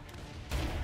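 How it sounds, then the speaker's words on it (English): Saints Row 3 video-game explosions boom in quick succession, a low rumbling burst of blasts that swells suddenly halfway through. "Nah, these explosions are wildin'"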